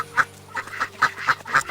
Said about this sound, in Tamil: இது ஒரு வாத்தினுடைய சத்தம்.